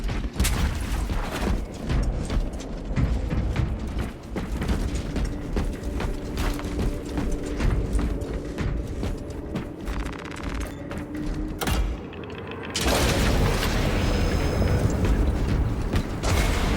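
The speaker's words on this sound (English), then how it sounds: "Small arms fire. It sounds close." Space Marine 2 combat ambience carrying close small arms fire, rapid clattering shots and mechanical rattles running continuously, then a sharper burst of louder, brighter noise near the end.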